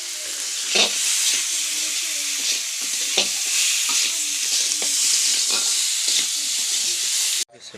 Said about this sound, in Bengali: মাংস কষাইব